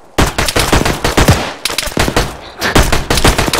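Rapid automatic gunfire and single shots crack repeatedly in the military video game Arma 3, loud and close, in bursts with short gaps between them.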